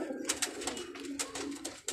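A flock of pigeons kept on a rooftop coos in soft, overlapping throaty calls, steady and close, with no talk over them.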